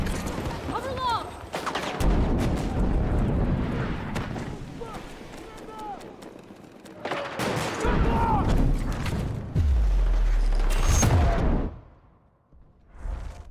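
In a first-person shooter, a frag grenade explodes with a deep booming burst amid scattered gunfire, whooshes and players talking over voice chat.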